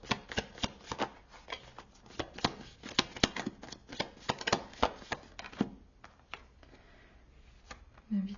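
Tarot cards are shuffled close by for a reading, a steady run of crisp riffling slaps and flicks with irregular rhythm that thins out toward the end, with low background noise.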